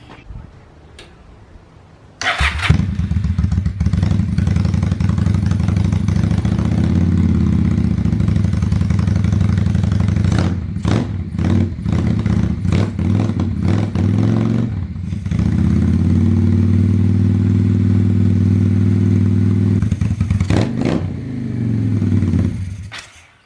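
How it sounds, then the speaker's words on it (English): A small engine starts with a pull and runs steadily at a loud idle to burn off the gas in its carburetor, its low rhythmic chugging broken by several stumbles and sputters before it cuts off at the end. "Now I'm gonna run it to get all the gas out of the carburetor."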